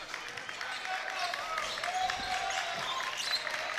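Crowd noise swells and claps scatter through a gym during a Nelson County vs Washington County high school basketball game, a steady mid-distance roar with a few squeaks.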